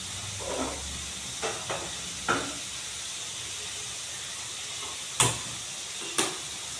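Marinated paturi cooking in oil with no water, heard as a steady close hiss and faint sizzle, with a few sharp clicks and knocks breaking through.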